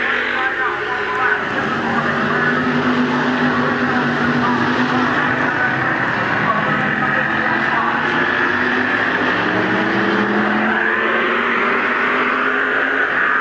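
Stock cars roar around Midvale Speedway on the final lap of a 1990 race, a continuous droning engine blend with rising and falling pitch as cars pass, mixed with crowd noise.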